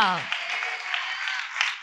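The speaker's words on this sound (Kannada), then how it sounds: "ಎಲ್ಲರೂ ಚಪ್ಪಾಳೆ ಹೊಡೆದು ದೇವರನ್ನೇ ಸ್ತುತಿ ಮಾಡು" A church congregation clapping hands together in praise, a dense run of many claps heard right after a brief voice, steady and fairly loud.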